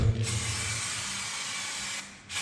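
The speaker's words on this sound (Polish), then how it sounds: "Mamy taki spray izolacyjny, więc od razu to sobie zapsikam" Insulating spray hisses from an aerosol can in one steady, close burst lasting about two seconds, then cuts off briefly before resuming, with no talking.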